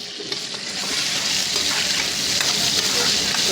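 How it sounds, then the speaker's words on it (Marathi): Chopped onion and tomato frying for bamboo biryani, a loud dense sizzle that swells after a brief start and holds steady with faint scraping of stirring throughout. "आता याच्यामध्ये मी कांदा टोमॅटो चिरून घेतलेला आहे ते याच्यामध्ये घालतो मी आता हे थोडं मी फ्राय करून घेतो"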